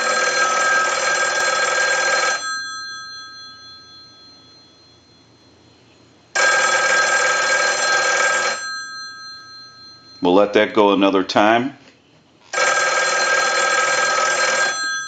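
A single-slot payphone with a newly installed bell rings in long electromechanical bursts driven by a test ring cycle, two-second rings separated by pauses, with someone speaking briefly between them.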